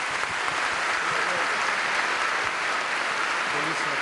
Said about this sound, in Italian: E te lo vogliamo dire con questo applauso.